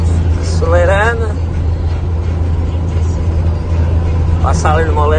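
Engine of a loaded Volkswagen Fusca held at a steady, rumbling idle-to-rev drone close by, with a person speaking briefly over it twice.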